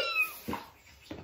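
Two short cat meows sound close together, soft and brief, against a quiet background.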